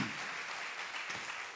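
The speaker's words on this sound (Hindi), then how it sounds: "ताली बजा के परमेश्वर को धन्यवाद दीजिए।" Church congregation clapping together in thanks to God during a Hindi-language Sunday prayer service, a steady dense wash of hand claps filling the short moment without pause.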